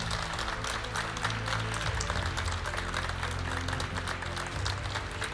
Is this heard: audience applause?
yes